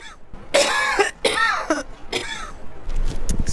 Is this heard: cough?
yes